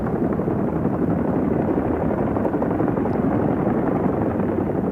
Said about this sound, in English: Chinook helicopter युद्ध के मैदान में हमारी तोपों का लगातार स्थान बदलने में मदद करता है